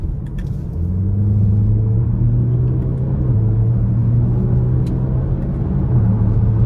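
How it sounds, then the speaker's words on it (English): A 2020 Range Rover Velar with a 2.0 turbo four-cylinder accelerates in dynamic mode, heard from inside the cabin. Its steady engine drone climbs in pitch, drops briefly at a quick gear change, then rises again. "I'm gonna put it back into the dynamic mode and see how it shifts getting on the interstate"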